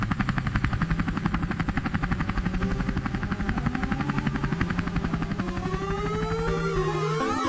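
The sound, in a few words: police helicopter flying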